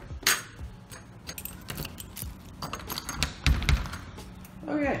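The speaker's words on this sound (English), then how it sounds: "Car keys and stuff." Keys jangling and clinking in repeated bursts up close, metallic rattles scattered across several seconds.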